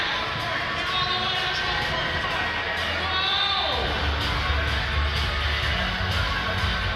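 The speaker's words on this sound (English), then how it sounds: "And the crowd's still very well into this game" Indoor crowd at a London Lightning vs Niagara River Lions basketball game, a steady roar of cheering and shouting with scattered whoops and squeaks, loud throughout.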